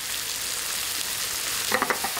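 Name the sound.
stir-frying tomato in a pan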